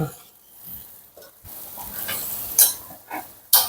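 Blanched squid is stir-fried in a pan for a salted-egg squid dish, with a steady sizzle broken by a few sharp scrapes and clacks of a utensil against the pan.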